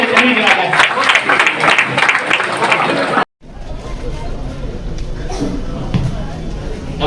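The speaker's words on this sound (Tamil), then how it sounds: "கொஞ்சம் கைத்தட்டி எல்லாமே" Audience at a Christmas celebration with sanitation workers in Poonamallee, bursting into dense, loud applause for about three seconds, followed by a cut to quieter crowd murmur and a voice speaking.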